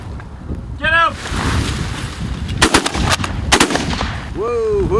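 Two sharp gunshots crack out a little under a second apart in the middle of an outdoor shoot, with wind noise throughout and voices calling out before and after.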